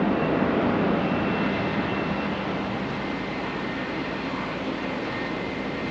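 Steady, loud roar of a QantasLink Boeing 717's engines in flight on a final passenger service from Sydney to Canberra, a continuous broadband drone heard from inside the cabin with no talk.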